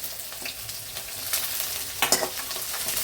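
Small onions and green chillies frying in a pan, a close crackling sizzle broken by irregular stirring scrapes, with a louder burst of spatter and clatter about two-thirds through.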